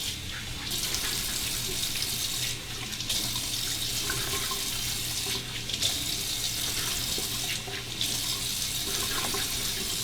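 Hot water runs steadily from a tap to soak a shaving brush, a loud, close, continuous broadband splashing that swells and thins slightly as the flow shifts.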